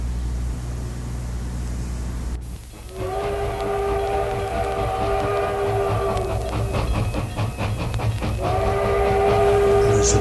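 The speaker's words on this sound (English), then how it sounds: "There's a train coming in." A train rumbles into a 1940s station with a long sustained horn blast, a brief pause, then the horn sounding again over steady rolling rail noise.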